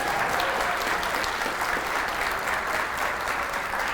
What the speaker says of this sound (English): Let's give one more round of applause for all of these kindergartners and their teachers.